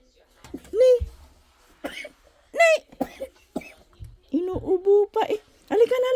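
A small child coughs several times in short, harsh bursts, with whimpering vocal sounds between the coughs.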